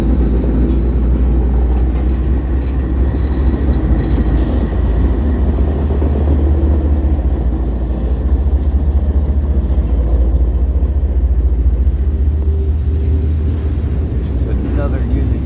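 A unit train of empty grain cars rolls past in Iowa or Nebraska, a steady heavy rumble with continuous wheel and car noise that stays loud and even throughout, no clear gaps.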